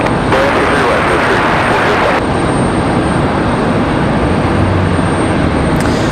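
American Airlines jet on its takeoff roll from runway 23 left at Raleigh-Durham International, a loud, steady broadband engine roar that holds throughout, with faint voice in the background.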